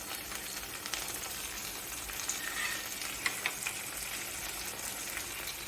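Garlic, cumin and curry leaves fry in hot oil, a steady soft sizzle with faint crackles and occasional stirring scrapes, continuous and fairly quiet throughout.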